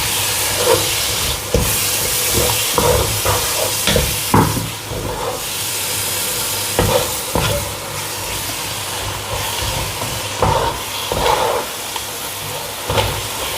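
Tomato paste fries in a hot pan, giving a loud, continuous hissing sizzle broken by occasional louder spits and pops as it is stirred.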